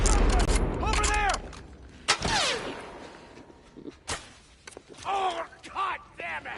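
Gunfire from a weak handgun in The Last of Us Part II on PS5, No Return mode with Ellie, sounds as a few sharp separate shots mixed with game effects and creaks, while a player talks loudly over the action.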